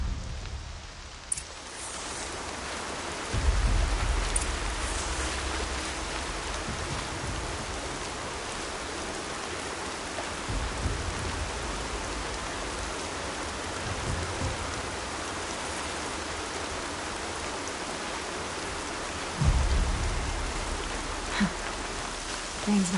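Steady rain hisses throughout in the video game Horizon Zero Dawn, with a few deeper rumbling swells rising under it now and then.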